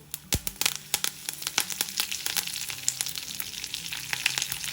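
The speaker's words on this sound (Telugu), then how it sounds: "తాలింపు వేగిపోయింది. దీనిలో ఇప్పుడు కరివేపాకు," Curry leaves and a tempering of chana dal, urad dal, mustard and cumin seeds sizzle in hot oil, with sharp crackling pops throughout over a steady frying hiss, close and fairly loud.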